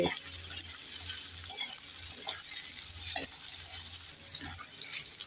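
Vegetables including radish sizzle steadily in a pan while being stirred, a continuous bright hiss with occasional soft scrapes and clinks, no voices.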